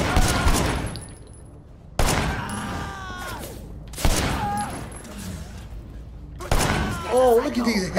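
Repeated bursts of gunfire crack out in Sleeping Dogs, four sharp volleys spread over several seconds, each followed by ringing echoes, with people talking and shouting in between.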